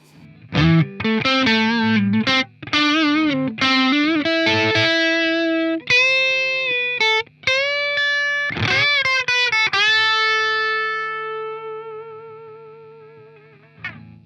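An electric guitar solo played through a Brunetti Pleximan distortion pedal: quick bends and runs, then held singing notes, loud and saturated. The tone ends on a long sustained note that slowly fades.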